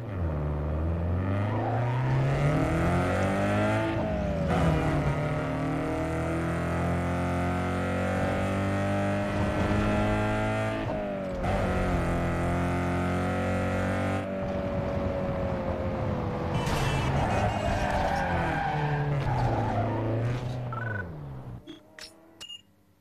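Race cars in Need for Speed Underground 2 rev hard with rising and falling engine tones through repeated gear shifts, loud and continuous, before cutting off sharply at the end.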